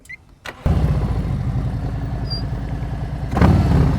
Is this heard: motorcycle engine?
yes